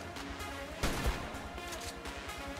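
Gunfire from a Rhino in the Ark video game, a steady run of shots over a busy game backdrop, with two louder bursts near the middle.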